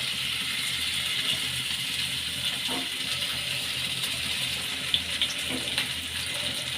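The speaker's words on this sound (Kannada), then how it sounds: "ಕುಕ್ಕಿಂಗ್ ಆಯಿಲ್ ಹಾಕ್ಕೊಳ್ಳೋಣ. ಈಗ ಪನ್ನೀರ್ ಟಿಕ್ಕಾನ ಇದ್ರ ಮೇಲೆ ಇಕ್ಕೋಣ." Paneer tikka frying in cooking oil on a hot tava set on a stovetop, a steady broadband hiss of sizzling throughout with occasional small pops and crackles, fairly close, no talking.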